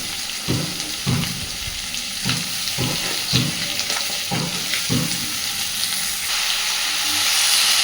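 Cut pumpkin with shrimp fries in a pan for a Bengali pumpkin ghonto, giving a steady hiss of oil while a utensil scrapes and knocks in a regular stirring rhythm.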